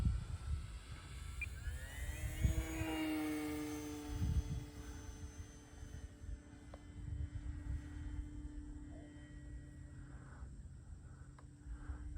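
An E-flite RJG Decathlon RC model airplane flies in light wind, its electric motor a whining tone that rises and sweeps in pitch as it passes, over steady wind rumble, fairly distant.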